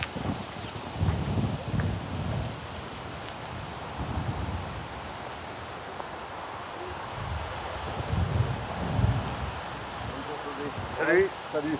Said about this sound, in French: le vent qui souffle où il veut